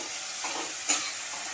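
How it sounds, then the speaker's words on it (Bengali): Bitter gourd stirred and fried in oil, with salt and turmeric, in a dish with hilsa head: a constant close sizzle with one brief scrape of the spatula in the middle. "এবার উচ্ছে ভালোভাবে নেড়ে ভাজতে হবে।"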